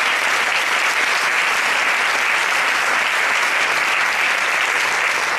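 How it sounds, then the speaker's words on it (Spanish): Steady, dense applause from the audience at the final of the Silla de Oro flamenco singing contest in Leganés, continuous clapping with no pauses. "quisiera pedir un aplauso para ellos"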